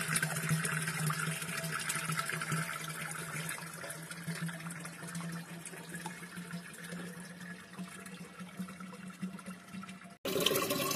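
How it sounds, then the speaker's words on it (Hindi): Steady running water pouring into a washed kalsi pot, a continuous rushing splash close by that cuts off near the end. "देखिए कलसी को धो के उसमें पानी भर रहा"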